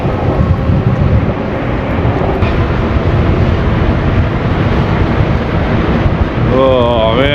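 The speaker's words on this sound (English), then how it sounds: "this wind is killer" Strong wind roars across the microphone throughout a bike ride through downtown Toronto on a Sunday morning, a loud, steady buffeting rush with a brief tonal whine near the end.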